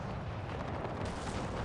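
Cannons firing canister shot during a Napoleon-era battle in a strategy video game, a dense continuous roar of overlapping gunfire and booms with no distinct gaps.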